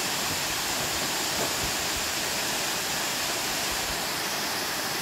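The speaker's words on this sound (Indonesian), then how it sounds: "Ini air terjun di Sijambe." Sijambei waterfall in Simalungun, a steady, dense roar of falling water, loud and unbroken throughout with no voices.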